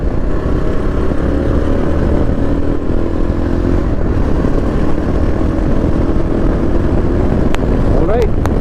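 A Yezdi Adventure motorcycle engine (2024 model) drones steadily and loudly at close range, with a rising throttle blip near the end during a downshift while riding.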